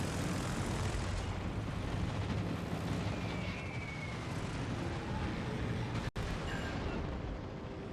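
Russian carrier aircraft in a naval combat game fly overhead, giving a broad, steady engine roar with rumbling low end, continuous across the stretch and cut by a single brief dropout, with no talk.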